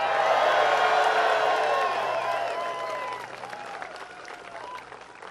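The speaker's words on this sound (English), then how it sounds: "What a great crowd we got out here." Crowd applauding and cheering at a presidential campaign launch speech: dense clapping with whoops and shouts that gradually fade, with a voice in the mix.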